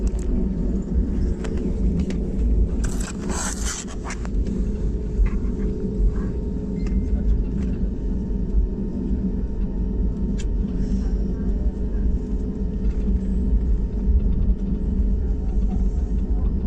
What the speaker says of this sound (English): Turning towards the runway now.